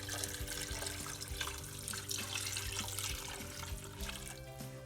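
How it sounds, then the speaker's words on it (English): Water poured from a tap into a soup pot for mushroom bisque or chicken escarole soup: a steady, full splashing stream, close and continuous throughout. "Now add some water."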